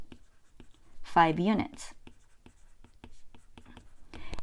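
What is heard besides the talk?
writing math notes during a lesson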